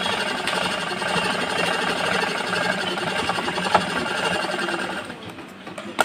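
A sewing machine runs continuously while doing the final stitching on a blouse, a steady close mechanical whir and rattle that eases off near the end, with a voice partly audible behind it.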